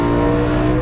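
BMW E92 M3 accelerating hard on the Barber Motorsports Park track, a loud, steady engine drone with layered harmonics sustained close-up through the short moment.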